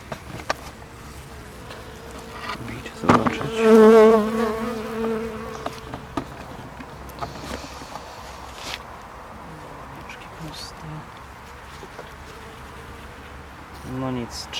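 Bees buzzing close by, with a louder insect drone passing near the mic, among rustling and handling noises, while a person speaks intermittently.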